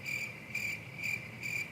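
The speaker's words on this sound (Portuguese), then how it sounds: "Pode colocar grilos mesmo, Marcos, porque é isso, não tem." Crickets chirp in four evenly spaced, shrill pulsing bursts, a steady repeating trill heard alone at moderate loudness.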